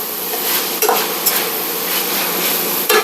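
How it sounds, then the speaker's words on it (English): Shaved steak being tossed with sprinkled spices in a hot pan for a cheesesteak casserole, a steady broadband sizzle with a few brief clinks and scrapes of a utensil against the pan, close and alone without talk. "We'll sprinkle in our spices with a little toss."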